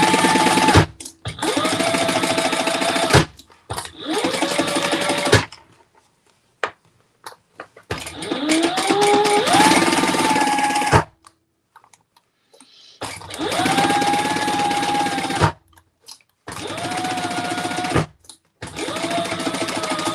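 Sewing machine stitching a bag, close and loud in repeated whirring bursts of one to three seconds separated by pauses, some runs speeding up and then stopping, with no talking.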